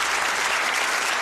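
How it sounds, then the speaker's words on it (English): A studio audience at a game show applauds a contestant, a dense, even wash of clapping that holds steady throughout, loud and close, with no pauses. "Give them a round of applause, our contestant."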